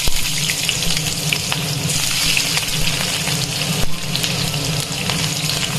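Onions sizzling and frying in hot mustard oil in a wok, a dense continuous crackling hiss with occasional louder pops and stirring, heard close and alone without talk.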